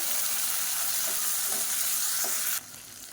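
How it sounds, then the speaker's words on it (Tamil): Sliced onion and a tomato fry in a pan with a loud, dense sizzle, broken by a few soft scrapes of stirring. The sizzle drops sharply near the end, and no one speaks. "வெங்காயம் கொஞ்சம் லேசாக வதங்கினதும் மீடியம் சைஸாக ஒரு தக்காளி சேர்த்துக்கலாம்."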